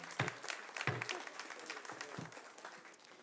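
Scattered clapping from a council meeting audience follows a public speaker, a few sharp claps rising above quiet room noise with faint voices, fading rather than building.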